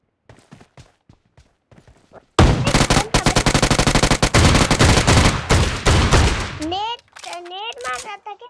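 Rapid video game gunfire, loud and dense, with sustained bursts of shots and a short shotgun-like blast run for several seconds, preceded by quieter clicks and followed by voices talking.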